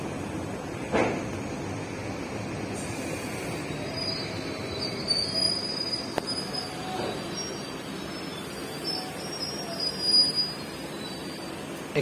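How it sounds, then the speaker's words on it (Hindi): The Tatanagar Thawe Express rolls past on Indian rails, heard as a steady, fairly faint rumble with occasional high wheel squeals and clanks, with no talk. "ये कौन सी ट्रेन है, टाटा नगर थावे एक्सप्रेस।"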